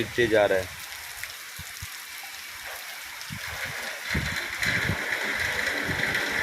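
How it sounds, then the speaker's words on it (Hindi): Steady rain pours outdoors in Bengal near a potato cold storage, a continuous close hiss of drops with brief low thumps and faint background sounds throughout. "बारिश रुका नहीं है, सुबह से बारिश रनिंग है, गिरते जा रहा है।"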